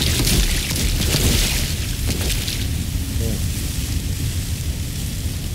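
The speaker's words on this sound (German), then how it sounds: "schießt noch mal auf das Nest da mit dem explodierenden Pfeil" An explosive arrow goes off in the co-op shooter Strange Brigade. A loud, broad rumbling blast fades over a couple of seconds into steady game noise, with players' voices mixed in.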